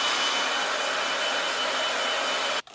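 Revlon One Step hair dryer blowing on thick, curly hair, a loud continuous rushing whoosh held steady for a couple of seconds before cutting off abruptly at the end.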